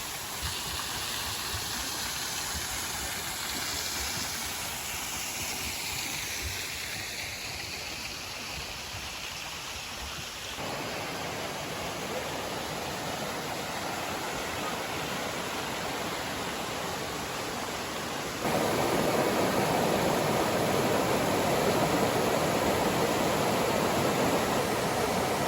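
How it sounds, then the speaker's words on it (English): A mountain stream and waterfall in Mungyeong Saejae Provincial Park rush continuously as a dense, steady hiss of flowing water that grows noticeably louder in the final stretch. "this area's got a stream there and a waterfall up here"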